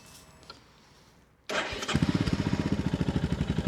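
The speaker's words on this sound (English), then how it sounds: "Right then, got the new exhaust on. Let's listen to it." A Royal Enfield Himalayan 411 motorcycle fitted with a new aftermarket exhaust, baffle still in, cranks and fires up after a quiet pause, then settles into a loud, close, rhythmic thumping idle.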